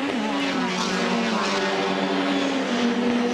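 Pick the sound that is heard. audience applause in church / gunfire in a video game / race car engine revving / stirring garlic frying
race car engine revving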